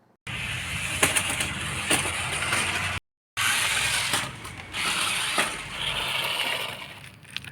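A toy RC monster truck drives outdoors over stones, its small motor and gears whirring and ratcheting in close bursts, with a brief pause midway.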